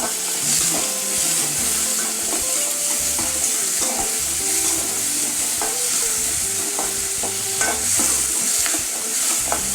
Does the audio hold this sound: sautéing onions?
yes